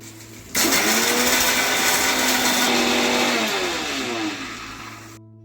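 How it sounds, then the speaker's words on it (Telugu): A mixer grinder whirs loudly and steadily for several seconds grinding peanuts and sesame seeds to powder, its motor pitch shifting slightly, then winds down. "ఈ పల్లీలు, నువ్వుల్ని మిక్సీ జార్లో వేసుకుని వీటిని ఒకసారి పొడి చేసుకుందాం"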